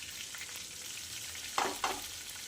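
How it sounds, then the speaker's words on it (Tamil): Curry leaves and masala frying in oil for an egg gravy, a faint, steady sizzle with two brief spoon scrapes near the end. "கருவேப்பிலை பொரிஞ்சதும் எடுத்து வச்சுருக்கு இல்லைங்களா மசாலா, அது எல்லாத்தையும் சேர்த்துக்கலாம்."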